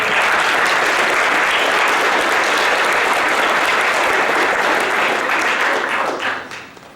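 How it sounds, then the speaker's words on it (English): Conference audience at the University of Ottawa applauding steadily, a dense, loud clapping crowd that holds for about six seconds before tapering off. "So give a round of applause to all the presenters."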